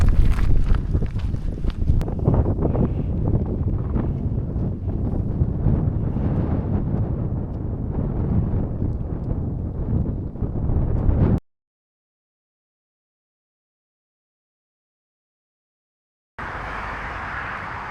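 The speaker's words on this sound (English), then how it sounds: "It's quite windy today, but dry." Strong wind buffets the microphone on an exposed hilltop stretch of the South Downs Way on a dry day, a loud continuous roar for about eleven seconds, then sudden silence before the rush resumes.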